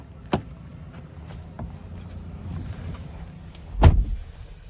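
Someone climbing into the driver's seat of a 2025 Chevy Tahoe LT: a door handle click, rustling as the driver settles in, then a solid door slam near the end, all close and without talk.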